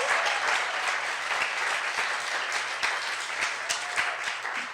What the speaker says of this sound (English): can I please get a big round of applause for the Bug Theater?